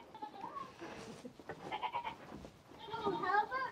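Nigerian Dwarf goats on a homestead bleat several times in short wavering cries, fairly close, while people talk nearby.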